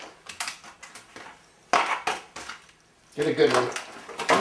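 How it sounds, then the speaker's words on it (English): An egg is cracked and broken into a glass, a few sharp taps and crunching, clinking knocks close up, with someone talking briefly between them. "break it into the glass"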